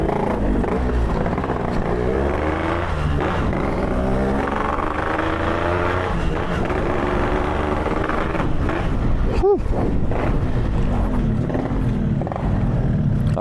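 Yamaha RX King 135cc two-stroke motorcycle on a bumpy road, its engine droning steadily and loudly throughout with rising rev sweeps, near and continuous, with voices mixed in.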